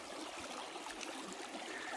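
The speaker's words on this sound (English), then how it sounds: "But this water is just flowing like crazy." A fast-flowing stream along the Arizona Trail, heard as a steady, broadband rush of water that holds even and continuous at close range, with no voices over it.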